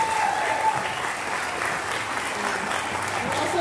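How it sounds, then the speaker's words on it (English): Audience applause at a choral concert: a steady wash of clapping from a crowd filling the hall, sustained at an even level for the whole stretch. "Here's a little more applause."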